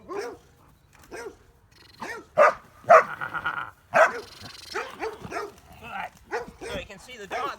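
A dog barking during sleeve bite-work training, several loud, sharp barks in quick bursts mixed with whines, close by and alternating with someone talking.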